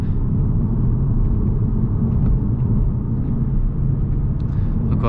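A Cupra Leon tuned by ABT on a drive through a valley road, heard as a steady, loud low engine and road rumble throughout, with no clear speech.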